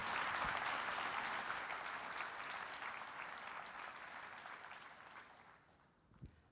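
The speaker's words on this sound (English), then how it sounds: "let's give all our students a well-deserved round of applause" A large audience claps for graduating students at a law school graduation ceremony, a thick wash of applause that slowly tapers off, with a lone sharp clap near the end.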